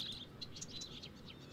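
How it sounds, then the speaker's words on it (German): Bird chirps in the video game Life is Strange Before the Storm: a run of quick, faint high tweets repeating over a low steady ambient hum, with no talking. "Oh, ein Vogel."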